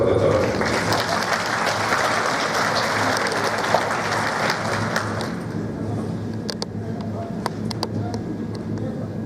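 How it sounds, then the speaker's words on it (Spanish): An audience at a medical talk on transfusion efficacy gives a doctor a loud, dense round of applause that thins out about halfway, leaving scattered claps and room noise. "Por favor, un fuerte aplauso al doctor."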